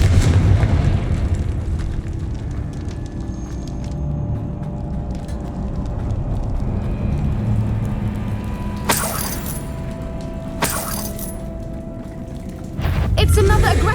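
Confringo blasting spells bursting in Hogwarts Legacy combat, with a rumbling low background and two sharp bright blasts a couple of seconds apart, followed by another heavy impact at the end.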